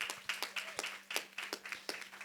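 A live audience claps for a guest introduced on a music-industry discussion panel, the applause a quick, patchy run of sharp claps in bursts across a couple of seconds, fairly light, with a steady low hum underneath.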